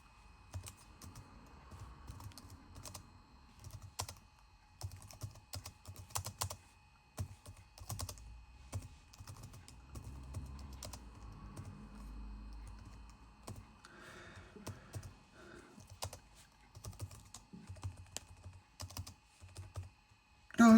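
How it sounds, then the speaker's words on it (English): Keys clatter on a Mac computer keyboard running Mac OS X Puma, a quiet, irregular run of light clicks with short pauses between bursts of typing, heard up close. "there's one thing I just want to type on here"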